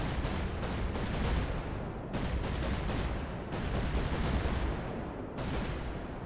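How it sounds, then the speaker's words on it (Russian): A battle in the game Rust: dense, continuous gunfire and explosions, with rapid bursts and heavy blasts layered into a loud, unbroken wall of combat noise. "Кто-то взрывается."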